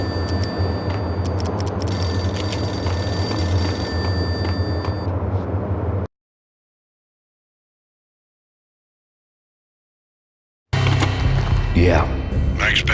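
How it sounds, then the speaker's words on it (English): A payphone rings in the video game Max Payne, a bright repeated electronic ring over a dense game ambience, then a stretch of dead silence before the background noise returns. "The payphone started to ring."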